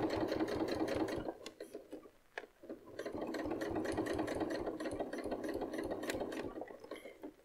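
Sewing machine stitching along the edge of a ribbon: a rapid, steady mechanical whir of needle strokes, close and fairly loud, that pauses briefly and then runs again without stopping, with no talk.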